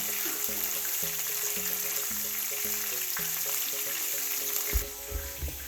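Steady frying of cod fish in hot oil, a continuous bright hiss with a faint background hum, ending in a few soft bumps and clatters.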